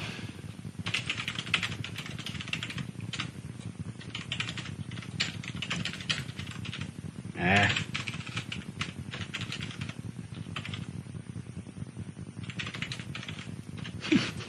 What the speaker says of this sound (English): Your typing has gotten better.